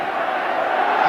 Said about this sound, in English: You should see the crowd down here now. And you should hear them.